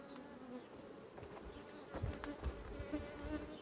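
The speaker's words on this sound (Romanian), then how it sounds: "Am rezolvat cu acest roi și o băgăm în stup." A honeybee swarm being put into a hive, with a steady, dense buzz from many bees, low thumps of handling from about the midpoint onward, and no talking.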